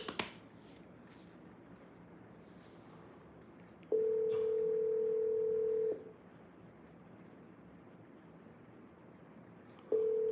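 A telephone call rings out while waiting for someone to answer: a steady two-second ring tone, a four-second pause, then the next ring starting, heard faintly through a quiet line with no talk.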